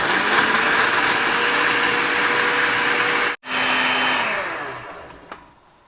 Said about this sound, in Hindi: इसको पीस लेंगे ब्लेंडर में डाल के